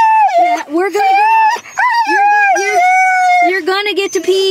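Several dogs whine and howl in a car on a road trip, with high, wavering cries rising and falling in near-continuous overlapping bursts close by.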